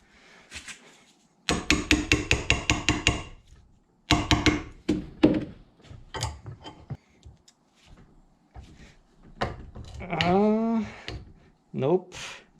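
Rapid run of sharp metallic hammer blows drives a chisel against a galvanized pipe fitting on cracked PVC pipe, then a few scattered strikes; someone talks briefly in between.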